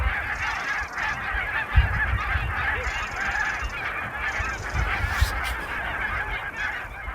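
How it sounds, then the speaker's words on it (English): Geese honking as they descend on the coastal marshes of Suffolk in November, a large flock giving a continuous dense chorus of overlapping calls, with occasional low thumps, and no voices. "You have just heard the sound of geese descending on the coastal marshes of Suffolk in November 2021."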